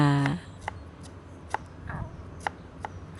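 A knife chops lemongrass on a board in sparse, irregular strikes, each a sharp close tap, after a short burst of speech at the start.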